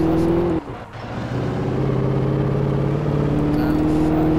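A car engine from the video game Alan Wake drones steadily under driving, with a brief dip around the first second before the hum returns at an even, continuous level.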